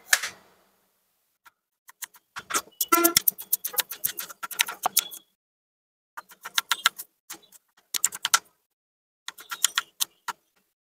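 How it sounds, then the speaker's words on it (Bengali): Onions being chopped on a board, quick bursts of sharp knife taps in uneven runs separated by pauses, close and crisp with no talk. "বিসমিল্লাহ, পেঁয়াজগুলোকে কুচাই।"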